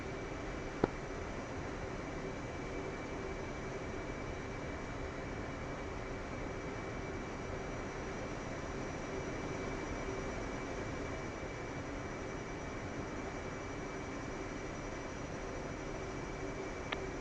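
An aircraft taking off in the DCS flight simulator, heard as a steady, unbroken engine roar and broadband rush that holds at a constant level for the full length, with no voices.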